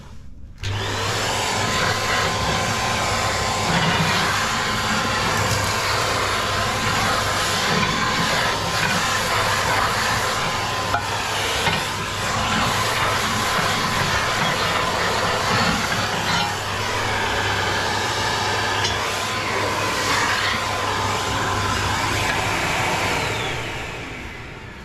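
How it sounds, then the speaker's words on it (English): A vacuum cleaner roars steadily and loudly while sucking ash out of an inset wood-burning stove with the baffle plate removed, with occasional rattling of debris through the hose. "Give that a quick hoover."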